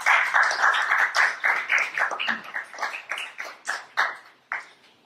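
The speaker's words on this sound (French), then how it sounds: "Je vous demande de l'applaudir." An audience applauds at a presentation on the political writings of Jacques Stephen Alexis, a close burst of hand claps that starts dense and thins into separate, fading claps over about five seconds.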